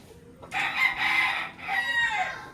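A young stag rooster about six months old crows close by, a loud drawn-out crow in two strained phrases with a short pause between them.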